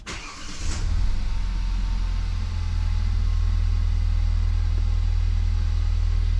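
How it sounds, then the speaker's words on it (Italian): A Kia XCeed car engine starts with a brief cranking burst, then settles into a steady low idle rumble, close and alone with no talk. "Accendendo l'auto vediamo"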